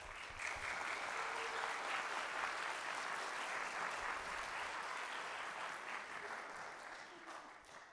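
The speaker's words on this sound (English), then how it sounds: "So can we give a big round of applause?" A room full of people applauds at a junior high school band's fall concert, a steady wash of clapping that stays even and moderately distant for several seconds.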